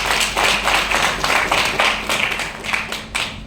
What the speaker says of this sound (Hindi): एक बार अपनी स्वागत के लिए जोरदार ताली